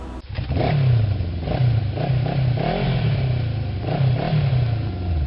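A motorcycle engine revs and roars continuously nearby, its pitch rising and falling as it accelerates through traffic.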